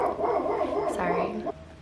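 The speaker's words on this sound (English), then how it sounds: "I have a feeling he's not gonna stop barking downstairs" A dog barks from downstairs in a house, muffled and a little distant, while a person keeps talking close by over the barking.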